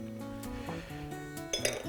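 Wine glasses clink together close by, bright ringing chimes sustained over a quiet room, with a sharper clink near the end and no talk.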